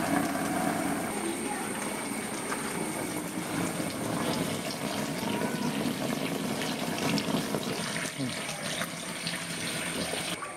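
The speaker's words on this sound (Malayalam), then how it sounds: "വെള്ളം നിറയ്ക്കുന്നുണ്ട്" Water pours steadily into a fish tank holding young gourami fry, a continuous close splashing rush that runs the whole time, with voices speaking faintly underneath.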